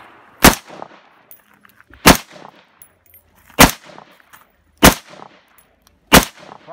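Five sharp gunshots from target shooting crack out one at a time, evenly spaced about a second and a half apart, each loud and close with a short decay and quiet between.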